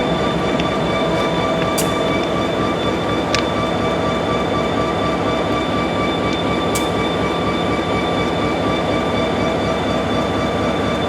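A B&O GP30 diesel locomotive idling, giving a steady loud low rumble with a constant mechanical hum and a few brief sharp clicks, with no talk.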